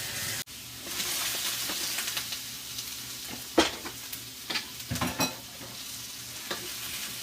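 Vegetables sizzle and crackle in a hot pan, with scattered sharp pops breaking through the steady hiss.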